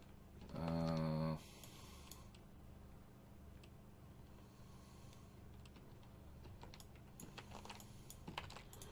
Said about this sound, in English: And I'm just typing this in.